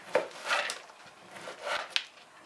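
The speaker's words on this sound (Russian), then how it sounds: "Нарезаем хлеб кубиками и отправляем сушиться в духовку." A knife cuts bread into cubes on a board, a few soft chopping strokes and crunchy slices spaced apart, fairly quiet and close with no talking.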